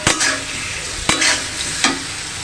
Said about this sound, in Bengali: চিংড়ি মাছটা হালকা ভাজা দিব, কারণ বেশি ভাজলে চিংড়ি মাছ শক্ত হয়ে যায়।